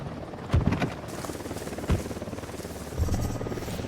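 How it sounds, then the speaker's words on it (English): A helicopter approaches in the video game Ghost Recon Wildlands, its rotor thumping rhythmically under a steady buzzing drone, with a few heavier thuds. "Chopper inbound."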